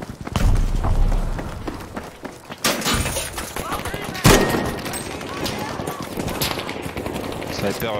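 Gunfire from a sniper rifle in a multiplayer shooter game, with sharp bursts of shots and impacts among other game sounds, mixed under excited talk.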